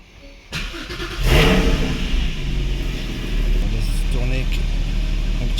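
A Porsche 981 GT4 engine cranks and fires after an oil change, then settles into a steady idle rumble with a couple of light blips of revving, heard up close in a workshop.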